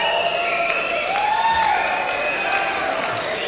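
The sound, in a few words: crowd applause for the round girl at a boxing match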